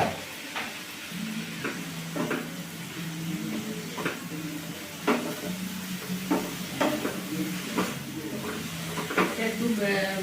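Chopped hot green chillies fry in a pan for egg parota, a steady sizzle broken by repeated scraping stirs, close and continuous with a voice speaking over it.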